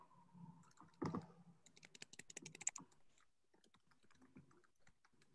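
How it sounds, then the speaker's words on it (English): Typing on a computer keyboard during an online meeting: a run of quick irregular key clicks, close and fairly soft, after a brief faint voice at the start, then a lighter scattering of taps. "So I'm sorry, I'm typing."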